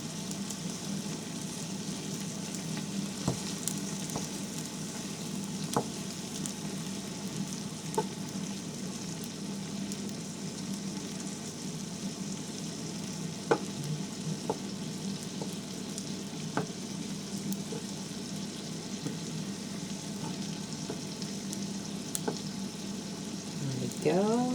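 Shrimp fry in a hot pan for low-carb Nicaraguan-style chop suey, with a steady close sizzle and occasional stirring and scraping clicks, no talking.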